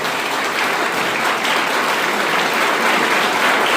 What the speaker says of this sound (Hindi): मैं एक जो जोरदार ताली चाहते हैं कि इन दंपति के लिए भी बजे।